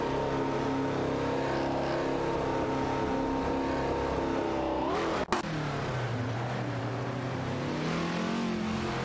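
A Ford GT40 racing wheel to wheel with a Porsche 908 coupe, heard as a steady, loud engine drone that holds pitch, then a sharp click and a falling note as one car lifts and pulls away.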